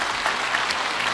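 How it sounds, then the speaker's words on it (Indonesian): A church congregation applauds during a sermon, a brief, dense and even burst of clapping with no pauses. "Tepuk tangan dong buat Tuhan."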